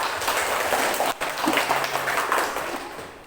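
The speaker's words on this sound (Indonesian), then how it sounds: "tepuk tangan" Classroom applause sounds as a dense patter of many hands clapping together, fairly close and steady for about three seconds, with a short dip partway through.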